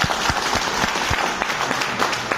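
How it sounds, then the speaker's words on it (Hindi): Audience applause at a development meeting, steady dense clapping from a crowd close by, continuous for the whole stretch with no voices over it. "एक बार ताली बजाइए।"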